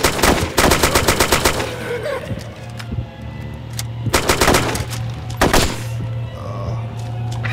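Rapid bursts of automatic gunfire in the zombie video game Bean Bandits Zombie Apocalypse, loud clustered volleys separated by short gaps over a low steady hum.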